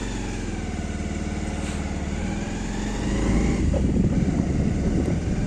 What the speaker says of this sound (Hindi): बाइक से 1 किलोमीटर सफर है शमशान का, बाइक से चला जा रहा है।